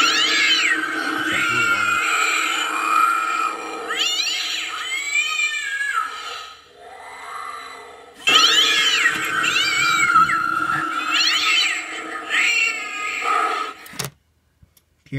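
A Spirit Halloween animated pet urn plays electronic cat meows, two long sequences of warbling, drawn-out meowing close to the microphone, each ending with a mechanical whir, before a clunk and silence.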